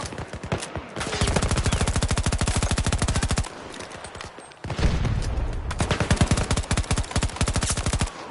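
Automatic weapon fire in Battlefield 2042 rattles in long, loud sustained bursts, broken by a brief lull before another extended volley.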